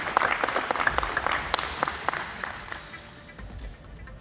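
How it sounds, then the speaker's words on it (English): A crowd gives a round of applause for a rental team at a launch event, many hands clapping steadily, then thinning and fading toward the end amid faint background voices. "a quick round of applause to the rental guys"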